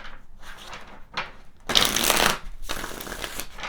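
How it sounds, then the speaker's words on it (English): Tarot cards being shuffled close by, a steady papery riffle in several bursts, the loudest and densest stretch in the middle, with no talking. "Let's pull some additional cards here."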